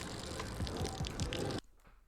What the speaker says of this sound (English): That's an interesting water fountain right there.